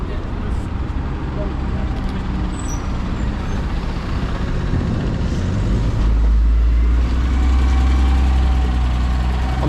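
An Optare Solo CNG bus idles in Reading town centre, a steady low engine rumble with a deeper throb swelling partway through, surrounded by busy street noise and passing traffic.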